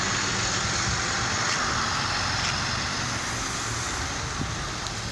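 Rush-hour street traffic in Greenpoint, Brooklyn, makes a dense, continuous roar of passing cars and trucks. It stays steady and loud throughout, with no clear voices.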